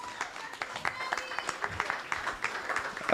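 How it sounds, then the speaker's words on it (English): An audience applauding in a hall at a Culturama 50 cultural celebration event, steady scattered clapping at moderate loudness with voices mixed in. "Can we give him another round of applause,"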